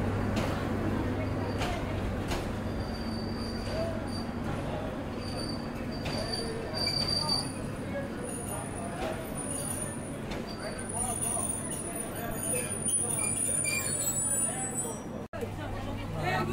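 The down Jayantika Express moves along with a steady low rumble and carriage noise, heard from inside, with a murmur of passenger voices and occasional high squeals and clatter.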